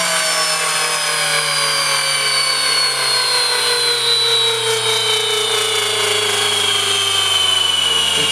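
Electric brushless RC motor spinning up on a MiniPro dyno, a loud continuous high-pitched whine that sweeps steadily in pitch through the run over a low steady hum, with no talking.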